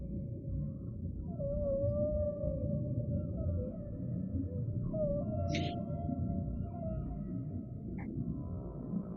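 Long, low, sliding whale song calls drift under a guided meditation, faint and distant against a constant wash of ocean-like hiss, with occasional higher squeals.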